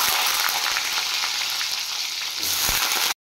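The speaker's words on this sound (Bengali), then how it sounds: "তেল গরম হয়ে গেছে, এবার আমি এখানে কেটে রাখা আলু ভেজে নেব।" Cut potatoes fry in hot white oil with a loud, steady, dense sizzle that runs almost the whole time and then cuts off abruptly at the end.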